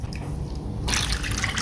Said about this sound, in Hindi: इसके अंदर 2 गिलास पहले हम पानी के ऐड करेंगे।